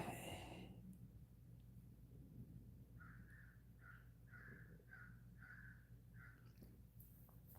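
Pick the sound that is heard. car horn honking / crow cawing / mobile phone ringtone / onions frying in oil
crow cawing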